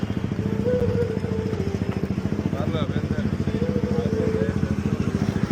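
A motorcycle engine runs on a busy London street near King's Cross, a steady throbbing idle or slow rumble close by and fairly loud throughout, with faint street noise behind it.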